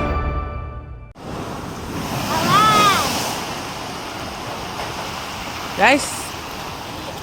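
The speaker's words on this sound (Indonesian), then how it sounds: "Ombak besar menjebolkan tanggul penahan ombak di wilayah pesisir Pasar Padang" Big ocean waves surging against a coastal seawall at Pasar Padang, Kota Agung, heard as a loud, sustained roar of surf with wind buffeting the microphone, after a brief abrupt start; a voice speaks briefly near the start.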